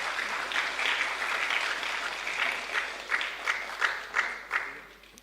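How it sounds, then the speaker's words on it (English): Audience at a governance summit award ceremony applauds in a steady round that fades into a few scattered claps, heard at a moderate distance. "Can we have a huge round of applause,"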